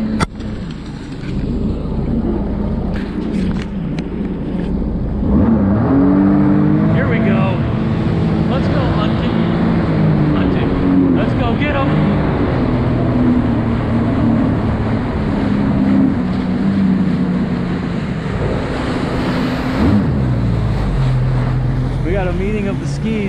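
Jet skis, including a 3-cylinder 1200 Yamaha Waveblaster, race across open water, engines droning and rising and falling in pitch nearby while voices talk loudly over the roar.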